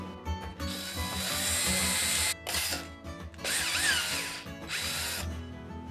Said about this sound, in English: I'm drilling this out slightly oversized.